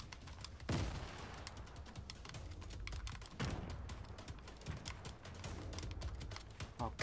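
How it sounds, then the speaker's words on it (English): Rapid gunfire from Fortnite gameplay crackles in dense, continuous bursts with sharp repeated cracks, loud and close throughout without talk. "he's getting sniped at"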